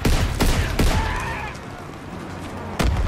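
Gunfire in the Call of Duty: WWII video game, with loud, close bursts of rifle and machine-gun fire and shots ringing out at intervals over a constant battlefield rumble.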